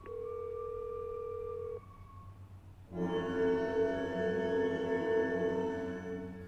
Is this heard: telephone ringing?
yes